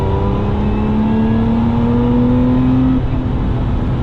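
Sports car engine, a Jaguar F-Type V6 or Lotus Emira V6, accelerating loudly and close with a steadily rising tone that peaks, then eases off as the revs drop.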